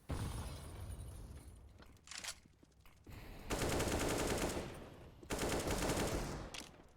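Bursts of AK rifle fire from the Counter-Strike video game, map Train, in a competitive match: rapid automatic volleys in several clusters, loud and close, separated by quieter gaps.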